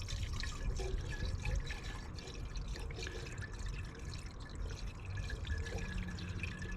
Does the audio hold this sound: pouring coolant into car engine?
yes